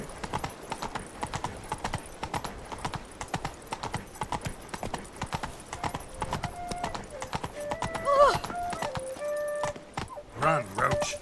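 Horse galloping in The Witcher 3 video game, hooves clip-clopping in a rapid steady rhythm, close and prominent, with a short whinny and a voice speaking near the end.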